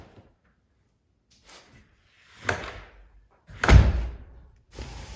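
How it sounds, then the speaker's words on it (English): A door is being installed and moved in a DIY workshop, producing several close wooden thumps and bumps with short scraping between them, the loudest heavy thud coming near the end. "It's been a long time since I put a door in."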